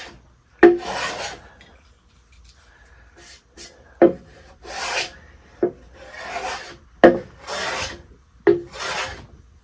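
A Bridge City 4.5 hand plane shaves wood across the grain in a series of about six rasping strokes, each a bright, close scraping burst separated by short pauses, with no talking.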